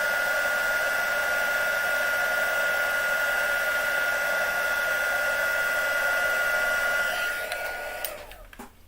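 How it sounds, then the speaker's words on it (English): A craft heat gun blows a loud, steady, hissing whir while it melts embossing powder, then is switched off near the end and spins down into quiet. "I have a little hook for my heat gun"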